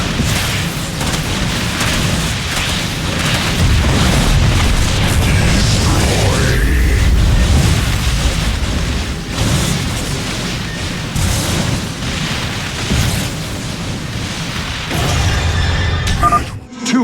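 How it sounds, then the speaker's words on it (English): Crystals blow up in the StarCraft II: Legacy of the Void video game: loud, dense booming blasts roll on almost without a break for many seconds, ending in a final burst as the noise drops away. "Two crystals destroyed."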